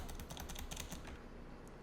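Rapid clicking of keys on a computer keyboard during a data science coding session, a steady patter of light taps that is busier early on and thins out toward the end.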